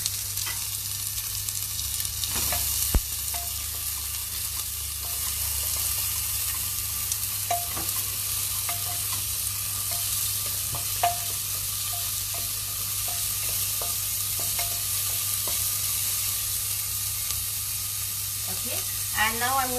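Onion sizzles and fries in hot oil with browning ginger and garlic, a steady dense hiss that runs throughout, with occasional utensil taps and light stirring, no talking.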